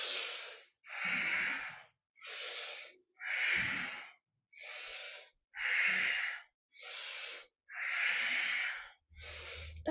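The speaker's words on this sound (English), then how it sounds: "That nice audible breath in and out the nose." Slow, audible breaths drawn in and pushed out through the nose during a guided breathwork and meditation session, nine or so rhythmic in-out cycles close up and steady, with no talking.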